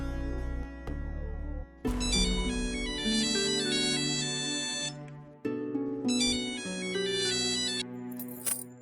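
Telephone ringtone for an outgoing call, a loud synthetic melodic chime in two long bursts separated by a short gap, with soft background music and no talking.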